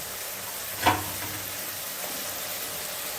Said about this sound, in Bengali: টমাটো কুচিটা দিয়েও আমি একটু ভেজে নেব